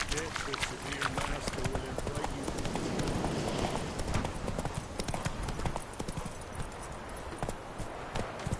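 In The Witcher 3, the horse Roach clip-clops in a rapid, rhythmic stream of hoofbeats that runs steadily throughout. A voice talks over the hoofbeats.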